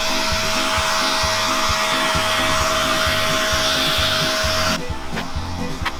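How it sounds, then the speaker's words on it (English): A leaf blower drones loud and steady throughout on an Australian street, with a constant high whine over a rumbling motor that shifts slightly near the end. "That is a really nice leaf blower."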